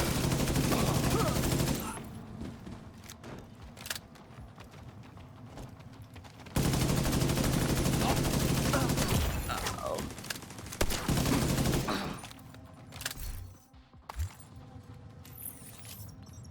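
Turret gunfire in a video game comes in loud sustained bursts separated by quieter stretches with scattered impacts and clatter, and a voice talks briefly between volleys.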